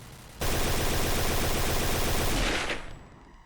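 Gunfire from the shooter video game Point Blank erupts as a loud, dense burst of rapid automatic shots lasting a couple of seconds, then cuts off into quiet.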